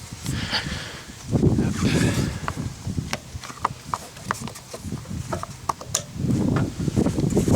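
A Lawnboy 19 lawn mower is pull-started: the cord rasps in a couple of strong pulls amid clattering mechanical clicks and knocks, close and fairly loud, with no clear speech.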